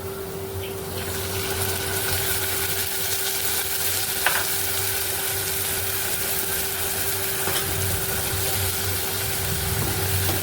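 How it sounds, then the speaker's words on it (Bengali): Chili and turmeric paste fries with onion and garlic for an egg bhuna, a dense, even sizzle that runs throughout with a steady hum underneath and a single clink, no one talking. "পেঁয়াজ এবং রসুন একটু ভাজা ভাজা হয়ে যাওয়ার পরে মরিচ এবং হলুদের মাখানো মশলাটা দিয়ে দেবে এটার মধ্যে"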